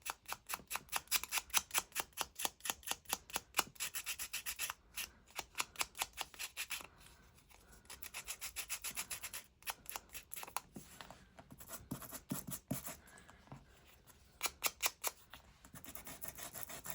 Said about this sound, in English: I'm going to get out my sander